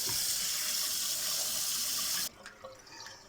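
Crayfish being washed under running tap water, a loud continuous gush that cuts off abruptly, followed by faint drips and light handling noises.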